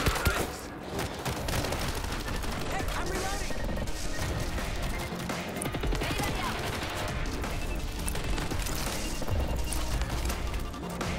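Dense, continuous gunfire and crashing impacts fill a zombie fight in World War Z, a relentless clatter of shots mixed with game noise while voices chatter throughout.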